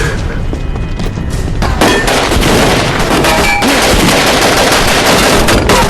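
Loud, rapid bursts of automatic gunfire from mercenaries rattle continuously, with sharp cracks and booms layered over one another.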